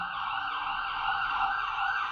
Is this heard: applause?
no